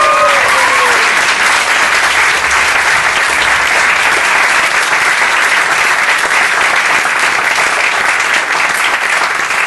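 A theatre audience claps warmly in sustained, dense applause that stays loud and even from start to finish, with a few faint voices mixed in.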